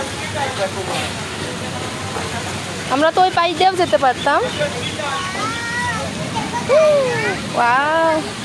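A steady rush of falling water from a waterfall runs continuously underneath, while an adult and someone talk over it close by.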